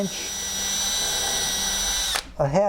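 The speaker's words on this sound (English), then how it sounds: "And now I'm going to drill" A power drill whines steadily at high speed for about two seconds, drilling a half-inch-deep pilot hole, then stops, and a voice begins speaking.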